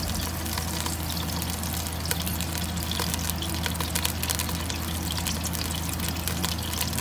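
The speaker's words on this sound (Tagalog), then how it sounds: "Lagay natin ng konting mantika." Cooking oil pours into a pan in a steady, continuous trickle that holds at an even, moderate level.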